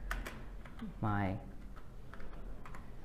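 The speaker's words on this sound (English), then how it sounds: "I will open notes and I tap on new note and I can type right from" Keystrokes on a Dell USB keyboard connected to an Android device: scattered light clicks sit close by, and a person talks briefly over them.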